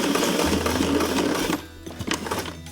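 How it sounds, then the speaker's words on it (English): A sewing machine stitches a military name patch onto fabric in a steady, close, whirring run that stops partway, leaving a few faint clicks and handling sounds. "I'm gonna sew right over the top of what I did at the very beginning,"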